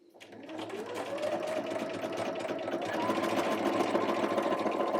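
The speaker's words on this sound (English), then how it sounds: "I will stitch on the stitching line the next row of pin tucks." A sewing machine fitted with a pintuck foot stitches a row of pin tucks, starting up and then holding a fast, steady whirring hum that grows slightly louder.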